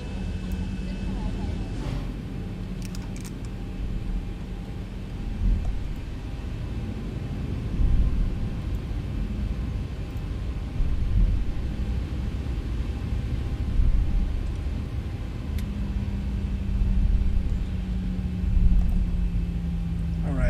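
A Boeing 737-800 airliner in a flight simulator rolls for takeoff, a broad steady engine rumble and roar sustained for about twenty seconds with slight rises and a faint whine, no talking.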